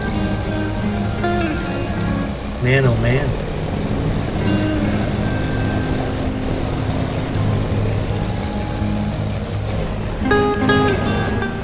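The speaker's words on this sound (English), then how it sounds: "The rain sounds great, and the thunder in the background is really nice as well." Steady rainfall from Farming Simulator 25 hisses continuously with low rumbling underneath, while someone talks briefly over it and a few tonal in-game sounds rise and fade.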